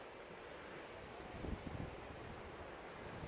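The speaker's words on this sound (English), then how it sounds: "A little bit windy" Steady outdoor wind buffeting the microphone in a large open field at a campsite, a continuous broad rush with a few brief low gusts midway.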